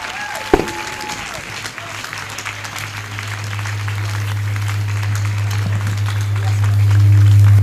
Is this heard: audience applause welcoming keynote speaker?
yes